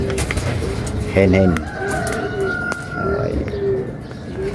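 Racing pigeon hen cooing at a loft during a semi-final race, a soft, low throaty coo phrase rising briefly near the start and repeating faintly, with other birds and background noise around it.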